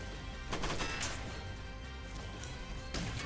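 A mech fires a POP 55 weapon in the video game Front Mission 1st Remake, a dense, loud barrage of rapid shots with sharp bursts near the start and end, under game music.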